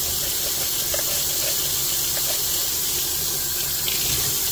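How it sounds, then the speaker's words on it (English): Tap water sprays steadily into and over an orchid pot at a sink, a loud, continuous, close hiss and splash that runs throughout without a break or any voices. "So what I do is I turn my water on and I wash this pot."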